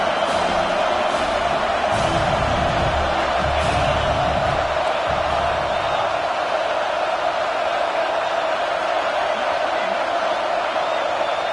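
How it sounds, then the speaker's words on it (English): A college football stadium crowd roaring on third down in a Georgia versus Texas A&M game: a loud, sustained wall of cheering and noise, steady from start to finish, with some talk underneath early on. "This dog crowd is off the leash, and they are coming after them, bringing noise on 3rd down."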